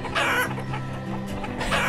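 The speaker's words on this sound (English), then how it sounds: "Alright, I'll zoom out so you guys don't have to listen to the chickens." Chickens cluck continuously in the town-building game Banished, a loud, close flock of overlapping clucks and squawks filling the whole moment with no talking.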